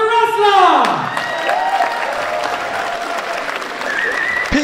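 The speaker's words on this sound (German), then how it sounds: "Ein Riesenapplaus für die Wrestler!" A packed crowd at a wrestling show in the Hansehalle, Lübeck, bursts into loud, sustained applause with cheers and whoops, while a voice calls out over the clapping.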